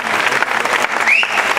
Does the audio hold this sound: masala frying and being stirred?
no